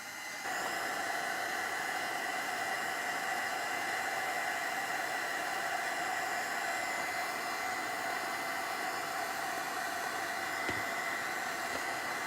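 A hair dryer runs steadily, drying rust paste on an old camera, giving a constant even whirring hiss at moderate level with no talk, cutting off near the end.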